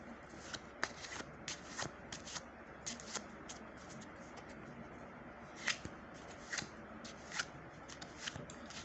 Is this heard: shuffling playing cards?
yes